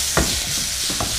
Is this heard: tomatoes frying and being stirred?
yes